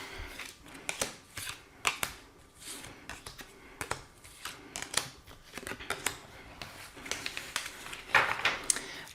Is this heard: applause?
no